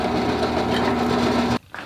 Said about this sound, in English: Now I'm gonna drill these out.